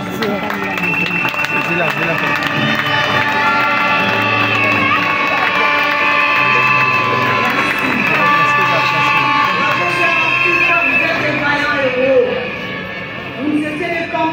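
A crowd at a Congolese church gospel gathering applauds and cheers for the artists, dense sustained clapping and shouts mixed with music and voices for most of the stretch, easing off near the end.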